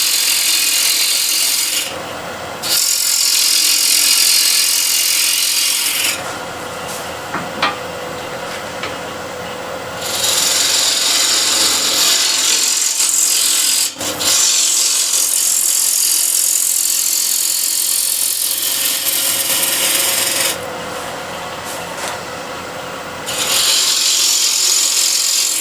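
A gouge cutting a wooden bowl profile makes loud, continuous rasping and shaving bursts, broken by several short pauses between passes.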